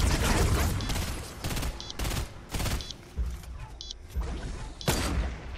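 Bursts of rapid gunfire crack repeatedly in a Fortnite match, loud volleys arriving in irregular clusters every second or so with short gaps between them.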